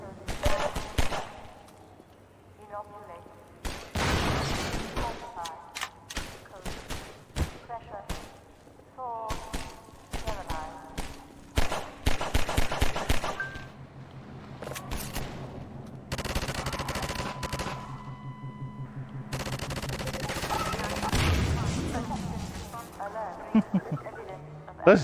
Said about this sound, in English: Where is he shooting from?